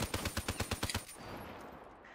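Rapid burst of M8 automatic gunfire in a Call of Duty Search and Destroy match, about eight sharp evenly spaced shots in quick rhythm, then fading into quiet background noise.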